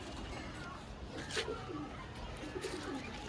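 A couple of low, throaty pigeon coos rise briefly out of a quiet, noisy background, with a faint rustle between them.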